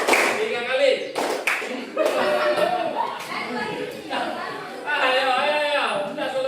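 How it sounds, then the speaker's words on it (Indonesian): Group of people clapping in a counted sequence of one, two and three claps, with broadband bursts standing out over continuous loud voices, chatter and some chuckling throughout. "Tepuk sekali, tepuk dua kali, tiga kali."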